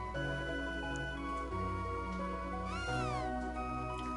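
A person imitates a cat's meow with a single drawn-out, pitch-bending meow over steady game music, loud and close, with no other talking.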